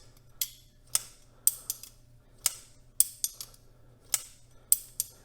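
A CJRB Ekko button lock knife is repeatedly opened and closed, giving about a dozen sharp, close metallic clicks and snaps in an uneven rhythm against quiet.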